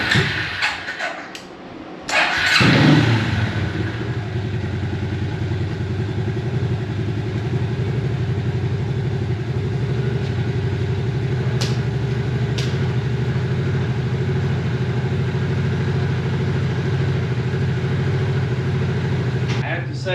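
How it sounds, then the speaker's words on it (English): An old Suzuki four-wheeler ATV, revived after sitting for years, cranks and fires up, then settles into a steady loud idle close by, with brief clicks and a voice near the start. "let's go for a ride"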